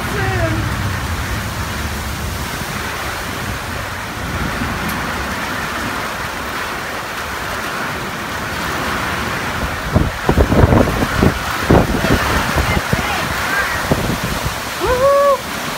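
Hail and wind arriving in a storm, a dense steady hiss of pelting ice and gusts across the whole stretch, growing rougher with louder clattering bursts toward the end.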